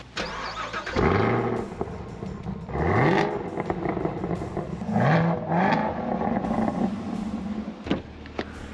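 A Chevrolet Camaro ZL1 engine revs and accelerates hard through several rising gear pulls, loud and close, with a deep V8 growl that climbs in pitch and drops between shifts.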